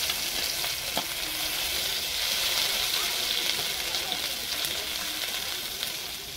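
Chopped onions frying in hot oil in a village kitchen, producing a loud continuous hiss and sizzle with occasional stirring clatter, close and steady throughout.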